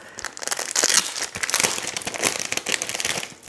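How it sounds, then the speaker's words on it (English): Packaging for xTool art scratch paper test material is opened, with continuous close crinkling and crackling of plastic wrap and occasional tearing, steady and loud with irregular sharp bursts throughout. "So we are going to open up our test material."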